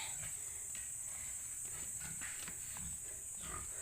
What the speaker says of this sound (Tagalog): Ayun na yung aming baboy